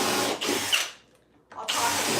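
A power drill runs close and loud in a shop while drilling holes, with two whirring bursts separated by a brief near-silent pause.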